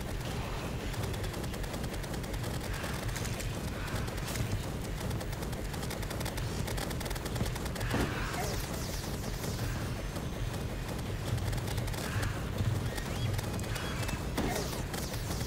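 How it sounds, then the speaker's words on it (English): Enemy shotgun blasts pound through a Terraria expert-mode survival fight, dense overlapping gunfire and projectile hits continuing steadily amid game noise. "Stop shooting me with the shotgun!"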